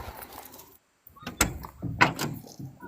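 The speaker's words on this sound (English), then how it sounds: "Let me open the door." A car door, on a New Mexico car with 73,000 miles, is opened, giving a few solid clunks and latch clicks after a short silence, with faint voices nearby.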